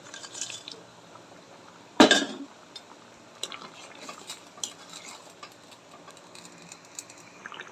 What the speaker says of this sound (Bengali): এখন গরম জলটা দিয়ে দেবো